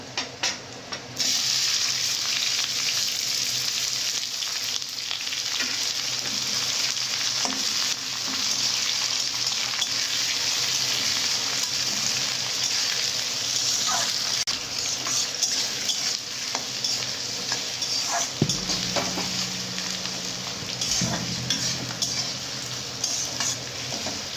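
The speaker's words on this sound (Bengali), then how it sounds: "এবারে আমি এখানে কুচনো পেঁয়াজগুলো আছে এগুলো আমি দিয়ে দেবো।" Chopped onions frying in oil with whole garam masala in a pan for mutton curry, a steady close sizzle with occasional stirring scrapes and a few clanks of a spoon near the end.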